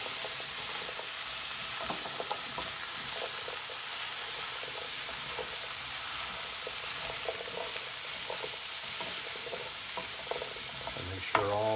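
Shrimp, zucchini and mixed vegetables sautéing in a pan as they are stirred together, a steady broad sizzle with scraping utensil strokes throughout, and a sharper clatter near the end.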